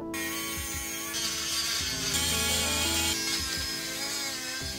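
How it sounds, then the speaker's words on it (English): A Dremel rotary tool cuts through a metal keyboard plate with a steady high-pitched whine and grinding screech, shifting in pitch as it bites, close and continuous without talk. "I cut the middle of the plate out using a Dremel"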